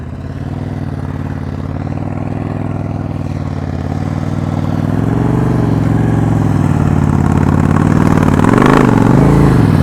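A motorcycle engine idles and is held at a steady low throttle during slow-speed riding practice around cones, a close, loud drone that builds gradually, then wavers as the revs rise and fall near the end.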